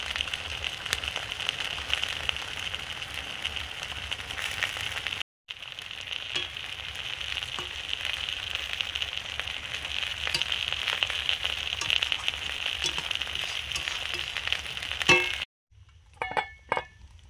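Small parshe fish fry in mustard oil in a pan, giving a continuous crackling sizzle with occasional utensil clinks and two brief drops to silence. No one speaks.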